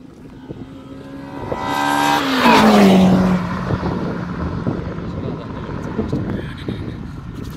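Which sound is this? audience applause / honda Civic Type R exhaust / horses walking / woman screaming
honda Civic Type R exhaust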